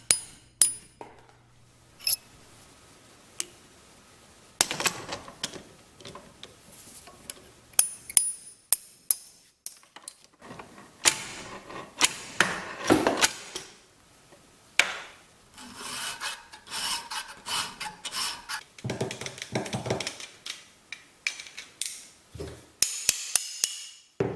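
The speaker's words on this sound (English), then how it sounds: "when you are punching this rivet out, make sure that the clamp is supported by the vise" Metal punch struck with a hammer to drive a rivet out of a DIY chainsaw mill clamp held in a vise, giving a series of sharp, irregular close metallic taps mixed with scraping and handling noise.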